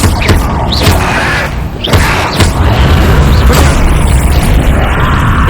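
A Confringo spell blasts in Hogwarts Legacy, heard as loud, booming explosive hits repeating every second or so amid dense combat noise.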